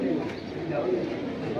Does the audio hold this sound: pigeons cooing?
yes